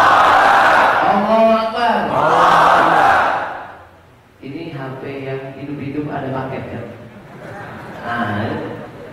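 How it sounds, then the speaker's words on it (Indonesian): A crowd inside a mosque at a youth religious gathering on a university campus chants takbir together in two loud, drawn-out swells, then a quieter stretch of group voices follows. "Kita takbir sama-sama karena memang ini di dalam masjid agak kurang etis kalau kita tepuk tangan."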